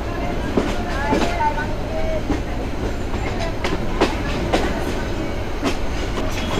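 A Mohua commuter train pulls slowly into a station at about 20 km/h, its wheels clacking in a steady rhythmic pattern over a constant rumbling drone, heard from on board with occasional brief voices.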